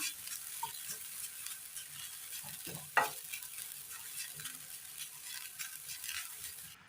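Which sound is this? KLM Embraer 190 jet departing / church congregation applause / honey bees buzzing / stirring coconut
stirring coconut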